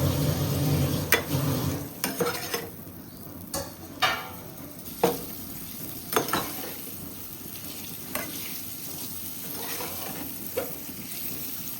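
Boiled eggs fry in a pan with oil, giving a steady close sizzle broken by repeated scraping stir strokes and light clatters, with no talking.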